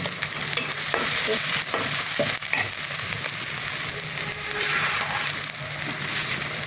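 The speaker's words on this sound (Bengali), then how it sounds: "পেঁয়াজগুলো আমার ভাজা ভাজা হয়ে আসছে।" Onions fry in a pan for a mixed fish curry, a loud continuous sizzle with repeated scraping stirs and clanks of a spatula close by, no one speaking.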